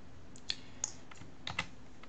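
Light, sparse keystrokes on a computer keyboard while entering code for a web map, a few soft clicks spaced irregularly over a steady quiet background hiss.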